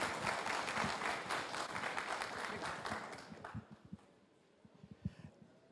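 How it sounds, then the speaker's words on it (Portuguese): A room full of people at a technology conference stage applauds, a dense burst of clapping that thins out into a few scattered claps and fades. "uma salva de palmas aqui para a Denise."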